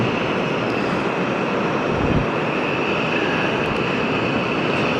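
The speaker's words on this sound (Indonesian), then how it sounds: "mesin uncoiler akan berputar yang digerakkan oleh hidrolik mesin" Hydraulically driven uncoiler machine rotating steel coil in an ERW pipe factory, a steady loud broadband industrial roar with a constant tonal hum, continuous throughout with no talk.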